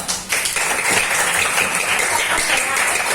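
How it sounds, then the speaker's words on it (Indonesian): A classroom full of students claps together in a steady, lively burst of applause, close and fairly loud, continuing for a few seconds. "Tepuk tangan dulu."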